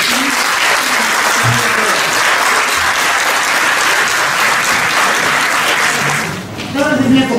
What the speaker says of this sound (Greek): ένα χειροκρότημα για την κυρία Δέσποιρα